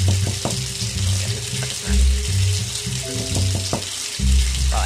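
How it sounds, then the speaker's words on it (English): Steady rushing water from a shower running in the video game Jade, close and continuous, with soft low thumps and faint tonal hums underneath. "I step in the shower and begin to wash myself."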